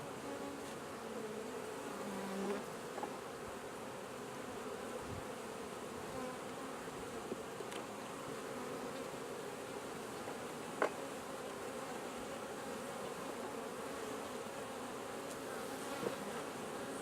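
Honeybees buzz as a double-deep hive is opened and taken apart for winter, a steady, dense drone from many bees close by that holds evenly throughout, with a few faint clicks.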